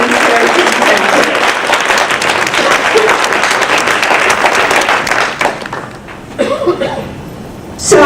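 An audience applauds loudly and steadily at a 2017 Maryland Women's Hall of Fame ceremony. The dense clapping holds for about five seconds, then thins out and fades into scattered claps and room noise.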